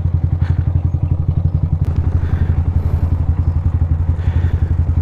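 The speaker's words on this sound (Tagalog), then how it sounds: "Look, may motor." Motorcycle engine running close by on a coastal road near the Bataan Cavite Interlink Bridge project, a steady rapid low putter with rhythmic pulsing throughout, fairly loud with no talk over it.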